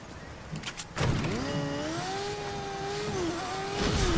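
A motorcycle in the video game Fortnite revs up sharply and holds a steady, rising and falling engine whine for several seconds, fairly close and loud with no talking over it.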